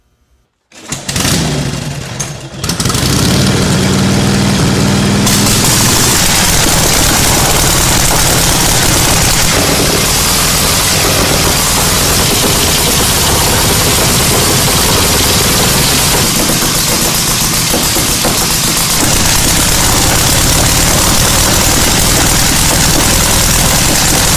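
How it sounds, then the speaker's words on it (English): A 1936 Harley-Davidson motorcycle engine cranks with a few sputtering pops, then catches and runs loud and close with a rough, steady rattling idle that continues to the end. "He's going to crank up the 36 Harley"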